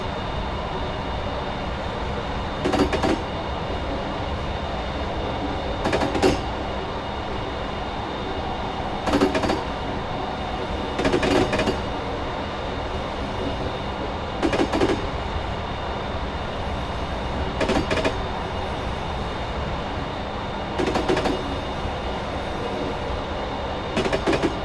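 A train runs on the Woodhead route between Sheffield and Manchester in the Train Simulator 2017 video game. A steady, fairly quiet rolling rumble is broken by regular clicking rail-joint thumps every few seconds.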